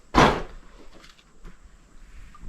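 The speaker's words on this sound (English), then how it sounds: "let's move that door around." An old door in an abandoned 165-year-old colonial farmhouse in Coshocton is moved, landing with one loud wooden thud. Fainter creaks and knocks follow in the quiet, empty room.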